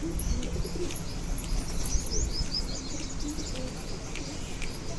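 Soft, continuous pigeon cooing at a pigeon house, under scattered high bird chirps, with a steady outdoor hiss behind and no one talking.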